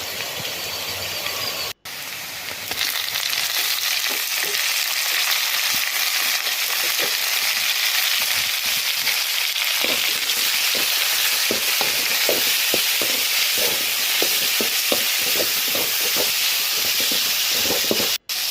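Tomatoes and spices, including turmeric, sizzle and fry in a pan for a Tamil-style fish curry, a steady broadband hiss with scattered crackles and soft stirring taps, close and loud throughout with no talk.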